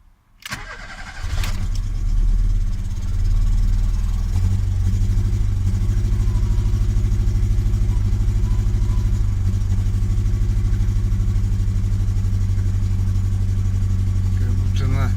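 A Ford CVH engine with its lambda sensor unplugged cranks and catches, then settles into a loud, rough, uneven idle that runs steadily to the end, close by and with no voices over it.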